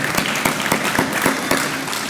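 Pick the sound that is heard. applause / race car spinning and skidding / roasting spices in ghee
applause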